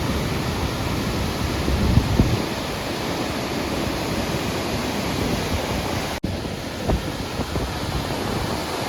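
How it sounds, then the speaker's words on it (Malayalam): Floodwater from all the opened shutters of Kallarkutty dam in Idukki during heavy rain, a steady broadband roar of rushing water throughout, loud and continuous with no talk. "കല്ലാർകുട്ടിയുടെ എല്ലാ ഷട്ടറും തുറന്നു വിട്ടിരിക്കുകയാണ് കേട്ടോ അതിശക്തമായ മഴ ഡാമായ ഡാമെല്ലാം തുറന്നിട്ടുണ്ട്"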